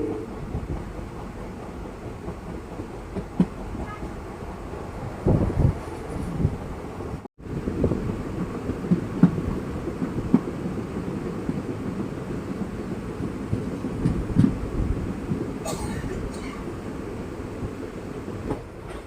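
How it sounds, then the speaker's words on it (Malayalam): Jan Shatabdi Express from Thiruvananthapuram to Kozhikode approaching on the adjacent track, heard from aboard a moving train between Kottayam and Kollam: a steady, heavy rail rumble with wind buffeting and one brief dropout midway. "അപ്പുറത്തെ ട്രാക്കിലൂടെ വന്നുകൊണ്ടിരിക്കുന്നത് തിരുവനന്തപുരം കോഴിക്കോട് ജനശതാബ്ദി എക്സ്പ്രസ് ആണ്"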